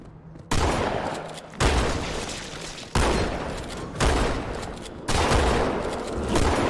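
Five heavy shotgun blasts in Halo 2 Anniversary boom out at steady intervals of roughly a second, each a loud, broad burst that decays before the next.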